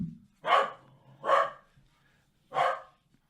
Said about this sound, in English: That's their corgi.